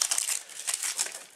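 An onion's dry, papery skin is peeled by hand, a close, brief crinkling and crackling in several quick bursts.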